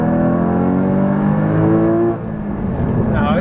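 Porsche Cayman GT4 engine growling under acceleration, a steady loud rising drone with strong harmonics that drops off near the end as revs change, heard close from inside the car.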